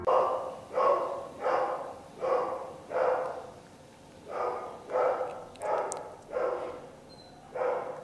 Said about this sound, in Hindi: ये कुत्ते के भौंकने की आवाज सुन रहे हैं आप?